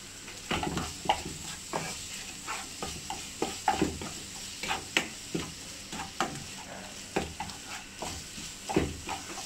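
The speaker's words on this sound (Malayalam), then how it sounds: "ഇനി ഇത് നല്ലോണം മിക്സാക്കി കൊടുക്കാം" A fish masala mixture is stirred in a pan over medium flame for a Kerala pearl spot (avoli) pollichathu, giving repeated close scraping strokes in a steady rhythm over a continuous sizzle, with no voices.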